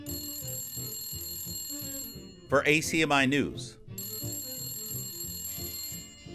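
A phone rings in repeated electronic trills with steady high tones, briefly interrupted by a burst of speech before the ringing resumes.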